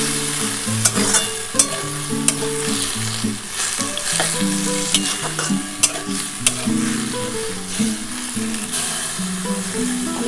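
Helencha greens sizzle loudly in a pan after a little water is added, with an energetic crackle and scraping stirring clatter along with scattered sharp ticks throughout.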